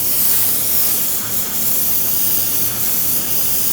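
A cheap paint spray gun on a small home compressor sprays a car panel, giving a continuous close airy hiss with slight dips as the gun passes.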